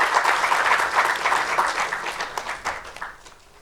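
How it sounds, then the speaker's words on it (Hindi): An audience at a college convocation gives a state governor a loud, sustained round of applause, with a dense patter of many hands that tapers slightly toward the end. "एक बार जोरदार तालियों से सबका स्वागत कीजिए।"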